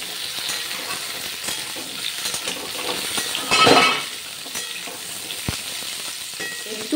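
Vegetables fry in a pan with a continuous close sizzle and occasional light clinks of a utensil, and a louder hissing surge about midway, with no talking.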